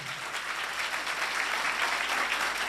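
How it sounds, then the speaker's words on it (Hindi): A congregation applauds during a Hindi-language Christian sermon by a bishop, a steady, dense wash of clapping that holds at an even level throughout, with no talking over it. "जोरदार तालियां बजा दे।"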